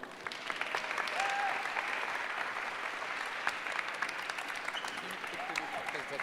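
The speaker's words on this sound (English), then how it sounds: "So big applause for Team Yellow." A crowd applauds a pitching team at a sustainability thinkathon, sustained, dense clapping at moderate level, with a little talk over it.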